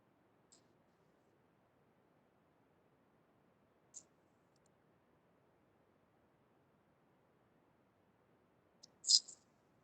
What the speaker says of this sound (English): Click on save.